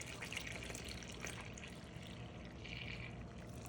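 Five cups of milk pour steadily into a bowl for a pumpkin pie filling, a continuous close splashing gurgle with no speech.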